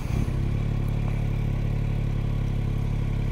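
A 2021 Yamaha Tracer 9 GT grand touring motorcycle fires up close by, then settles straight into a steady, loud, rumbling idle with a faint mechanical clatter. No one speaks.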